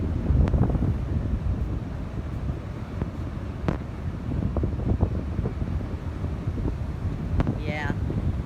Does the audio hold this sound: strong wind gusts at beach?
yes